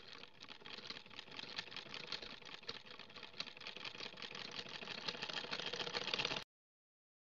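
A sewing machine runs steadily, stitching pocket fabric onto a palazzo with a fast, even rattle of the needle. The whirr is close and continuous for about six seconds, then stops abruptly into silence.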